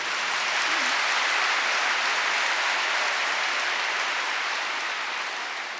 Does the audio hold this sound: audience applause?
yes